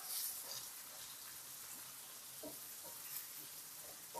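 Zucchini frying in a pan, a soft, even crackling sizzle with faint stirring taps, steady and fairly quiet throughout, no voices.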